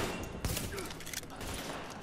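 Gunfire in The Division plays out as a dense, loud burst of rapid shots, with one sharp crack standing out amid a noisy wash of combat sound.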